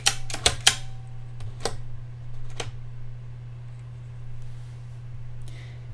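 A Perkins Brailler is operated: a quick burst of sharp mechanical clacks at the start, then a few spaced key strikes and faint carriage clicks fading into a quiet mechanical hum.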